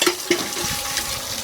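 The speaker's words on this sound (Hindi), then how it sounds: "ठंडा पानी निकल गया" Water gushes from a hand pump, a continuous close splashing flow with a couple of brief louder spurts at the start, as from pump strokes.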